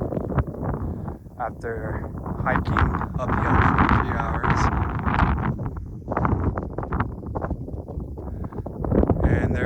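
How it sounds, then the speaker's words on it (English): Wind gusts buffet the microphone on a mountain ridge along the Rhus Ridge trail up Black Mountain, a steady rough roar swelling and easing beneath a person talking throughout. "So it's kind of windy up here, which I appreciate. Oh, this wind gust feels good"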